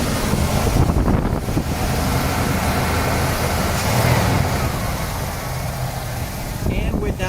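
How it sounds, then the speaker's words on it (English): A 1977 Cadillac Coupe DeVille engine runs smoothly at raised revs, a steady low rumble close to the microphone with no ticking or squeaks, mixed with wind buffeting and someone talking over it. "it's a super smooth running engine. No ticking, no squeaking"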